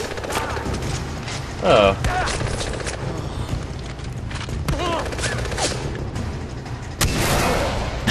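Heavy-weapon gunfire in the video game Far Cry 4 bursts in rapid volleys and booms, loud and dense throughout, while a player's voice talks over it.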